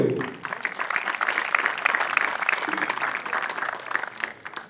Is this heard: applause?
yes